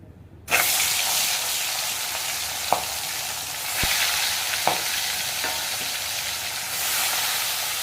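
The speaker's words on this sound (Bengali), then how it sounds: "মাছটা ভেজে নিই।" Fish dropped into hot oil in a pan bursts into a loud, steady sizzle that continues for several seconds, broken by a few sharp spits and pops, with no talking.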